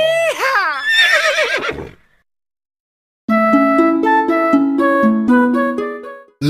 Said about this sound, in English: The horse on the farm goes neigh neigh neigh